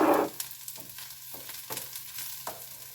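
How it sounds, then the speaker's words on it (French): Shallots sautéing in a pan give off a steady close sizzle, with a few soft stirring scrapes at intervals and no voices. "Maintenant qu'elles sont bien revenues, mes échalotes"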